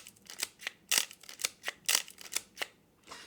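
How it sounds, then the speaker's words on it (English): A Canonflex, Canon's first SLR film camera, gives a quick run of crisp mechanical clicks and ratcheting snaps from shutter release and film winding, up close with no talk. "once you trip the shutter, you can quickly wind to the next frame without repositioning your hands"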